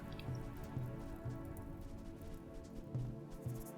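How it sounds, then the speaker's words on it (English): Steady rain falls in the RimWorld video game, with a continuous hiss of drops and occasional soft, low thumps repeating over the quiet wash. The level stays moderate throughout and no voices are heard. "But at least the rain will help a little bit."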